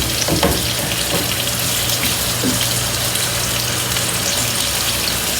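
Shrimp coated in cornstarch sizzle steadily in a hot sauté pan on high heat, a continuous close hiss of frying with faint clinks of a utensil breaking the pieces apart.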